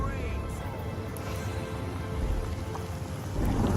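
Rain spell cast in the fantasy role-playing game Divinity: Original Sin, a steady hiss of falling rain with a low rumble swelling toward the end, continuous and fairly loud, no voices.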